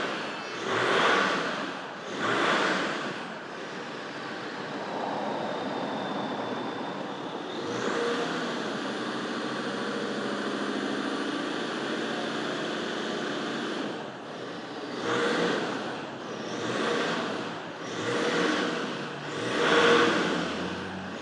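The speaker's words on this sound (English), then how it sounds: "That is a dirty diesel." A Land Rover Discovery TD5 diesel engine running and revving, with repeated surging swells and a long sustained roar in the middle, heard from fairly far off and moderately quiet.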